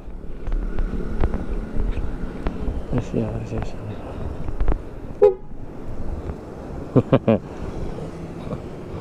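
A 2018 Vespa Sprint iGet scooter horn beeps several times in short bursts, including a quick double toot, over wind noise and engine rumble.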